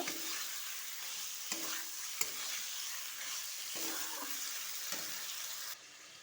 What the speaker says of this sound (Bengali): এবার দিয়ে দেবো সেদ্ধ করা পেঁপে। আবার একটু নাড়াচাড়া করে নেব।